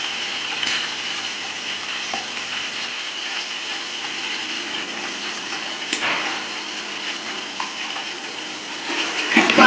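Ginger garlic paste is stirred into onions frying in a pot for chicken dum biryani: a continuous, fairly loud sizzle with occasional scraping and clinking of the spoon.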